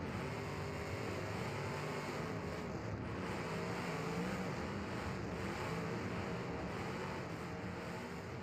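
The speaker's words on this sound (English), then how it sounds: "turn the engine sound down here a little bit" A racing car engine in a virtual racing game drones steadily and loudly throughout, with shifting revs and no clear pauses.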